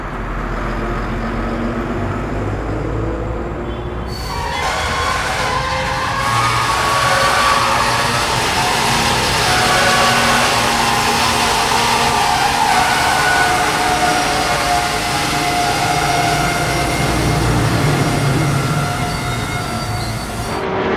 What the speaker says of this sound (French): on a la circulation automobile, les trains, les bateaux et les avions au-dessus